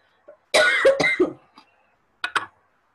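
A man at an orientation event coughs, a close burst of two or three harsh coughs followed by a short pause and two more quick coughs, with no talk.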